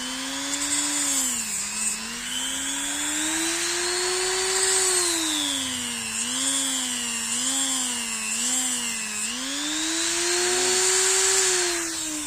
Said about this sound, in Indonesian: Saya pakainya tool grinding kayak gini.